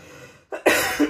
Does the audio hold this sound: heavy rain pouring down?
no